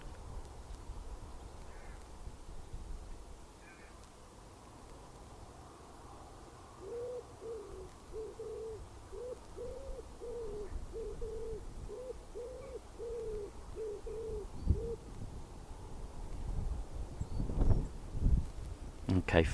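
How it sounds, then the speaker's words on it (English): Outdoors, a repeated low owl hoot sounds about a dozen times in an even rhythm at moderate distance, with wind, faint other birds and a voice speaking toward the end. "I hope you could hear those beautiful birds there"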